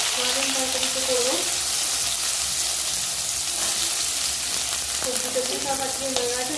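Hot oil sizzles steadily and close in a pan for a soybean curry, with a person talking over the frying at the start and again near the end.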